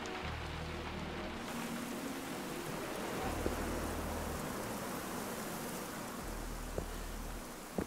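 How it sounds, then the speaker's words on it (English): Steady rain falling in Generation Zero, a constant broadband hiss under a low droning hum, with no talk. "Why is it raining indoors?"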